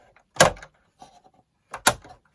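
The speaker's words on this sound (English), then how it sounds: "So if we snap the door closed like so" The cassette door of a JVC RC-838 boombox snapping shut and being opened, two sharp plastic clacks about a second and a half apart, close and clear, with faint rattles between them.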